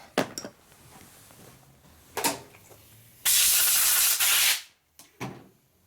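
Compressed air blasts across a 1942 Harley-Davidson WLC/WLA star wheel hub during a rebuild, a loud sustained hiss lasting over a second, set between scattered metallic clicks and taps.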